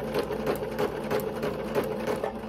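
A sewing machine stitches along a ruffled tutu sock, a steady close whir with a faint rhythmic pulse running throughout, no voices.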